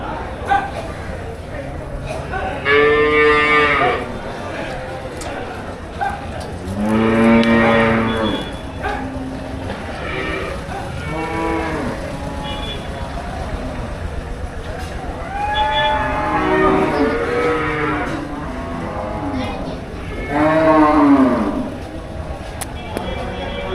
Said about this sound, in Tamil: ஏகப்பட்ட மாடு.